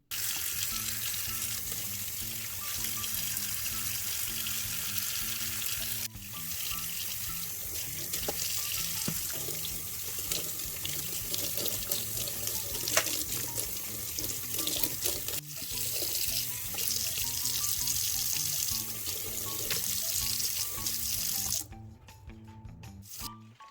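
Herbs rinsed under a running kitchen tap, a steady rushing stream of water splashing into a sink for over twenty seconds with brief changes in flow, close and constant, then cut off near the end, no talk.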